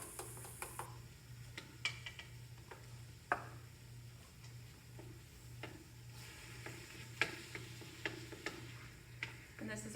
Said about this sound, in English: So this is browning up nicely.